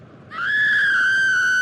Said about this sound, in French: Des cris retentissent.